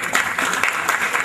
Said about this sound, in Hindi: एक बार जोरदार ताली हो जाए शर्मा जी के लिए।